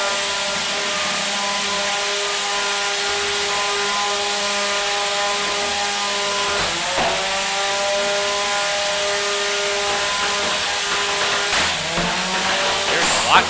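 A combat robot's spinning weapon winding up at a robot-smashing league event, a loud sustained whine with steady harmonic tones, a couple of sharp clanks partway through.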